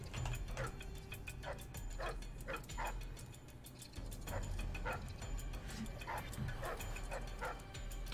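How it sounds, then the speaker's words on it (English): Dog barking in the stealth video game Dishonored: Death of the Outsider, a series of short repeated yips and barks at moderate distance over a steady low game ambience and mechanical hum. "What the hell is this dog?"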